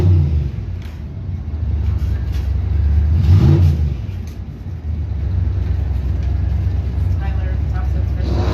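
A drag racing car makes its first run at an opening-day track event, its engine droning loud and steady throughout with a brief surge of revving near the middle, under crowd and announcer noise.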